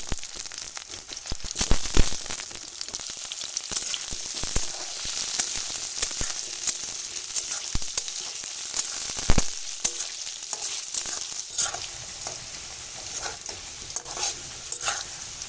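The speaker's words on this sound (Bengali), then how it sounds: "এবার আলুগুলো ভেজে নেব পেঁয়াজের সঙ্গে" Potatoes frying with onions in hot oil in a home kitchen, giving a steady close sizzle with occasional stirring scrapes and clatters, with no talk.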